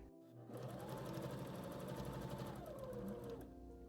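A sewing machine runs steadily for about three seconds, stitching a quarter-inch seam on a simple homespun apron. The whirring motor and rapid needle rhythm stay close and loud, with no talk over them.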